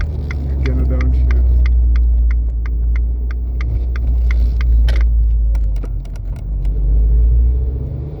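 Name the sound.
Abarth 595C Turismo downshift with Record Monza exhaust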